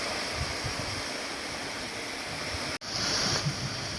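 Strong sea waves at a fishing coast wash in a constant broad roar, close and steady, with a brief dropout partway through and no voices.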